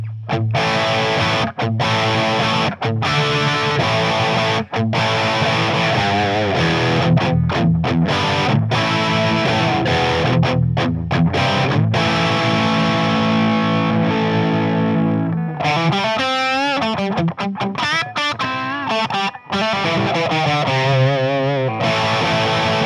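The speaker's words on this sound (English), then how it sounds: "hear how much more gain that introduces." Heavily distorted electric guitar through a tube amp's higher-gain second channel plays loud, sustained high-gain chords and riffs with short pauses between phrases, the tone shifting partway through.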